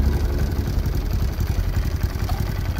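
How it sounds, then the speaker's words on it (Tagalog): Honda RS125 motorcycle engine running roughly after a blown CDI was replaced, a near, loud, uneven sputtering idle with irregular clattering pulses. "Masama naman ang tunog ng makina niya."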